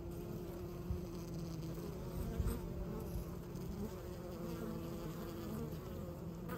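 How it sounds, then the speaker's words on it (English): Honey bees buzz at a hive inside a tree, a continuous close hum of many insects with brief louder passes as single bees fly near. "there are bees down in there hanging out"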